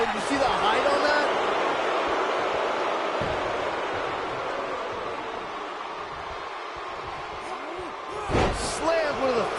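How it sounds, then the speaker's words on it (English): A wrestler crashes onto the ring mat in the WWE 2K19 video game, a short loud thud cutting through crowd noise while excited commentators talk throughout. "Slammed with authority."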